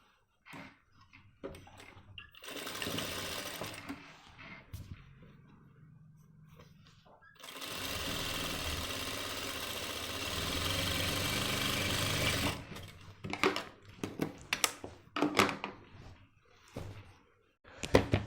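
A sewing machine stitches the front pocket of a pair of men's trousers, running in two long steady bursts of close mechanical whirring. Clattering handling noise and brief knocks fill the pauses and the end.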